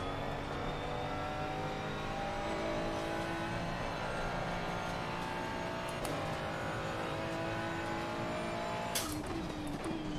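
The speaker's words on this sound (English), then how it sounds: "Sounds like the Ferrari." Ferrari race car engine in Assetto Corsa Competizione at Spa: a high, whining engine note that rises and falls through gear changes, heard from the car, with a few sharp clicks and a brief burst near the end.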